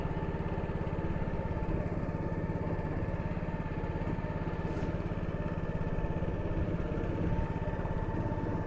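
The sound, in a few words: boat engine running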